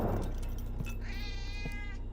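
A cat meows once in The Operator video game, a clear drawn-out mew rising over a steady background hum.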